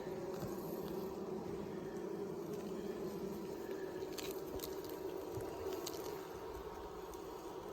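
Honeybees drone steadily around an open backyard hive during an inspection, a continuous close buzz with no voices over it.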